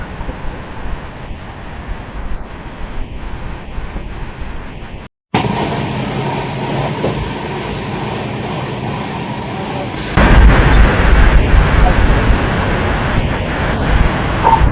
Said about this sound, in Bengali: আর এই যে হচ্ছে ট্রেনের স্পিড বলতে